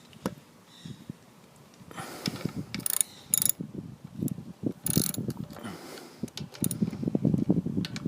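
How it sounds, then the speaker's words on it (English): A ratchet snugs down a plastic fitting on a Ryobi pressure washer with a Honda GCV 160 engine, giving bursts of clicking back-and-forth strokes at close range with brief pauses between them. "Now put your ratchet on it."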